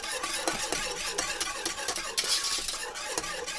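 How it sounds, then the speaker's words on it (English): A spoon stirs a simmering sauce in a pan, making a steady close-up scraping and swishing over a continuous low bubbling, with no voices. "I let this simmer a little bit and mix it up a little bit more."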